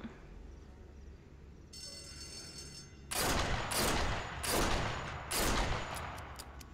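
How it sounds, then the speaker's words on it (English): Weapon fire in the VR game Sniper Elite VR, shot while upside down: four loud, booming bursts in quick succession after a quieter stretch, each with a broad, sustained rumble and tail. "Yep, I'm shooting upside down."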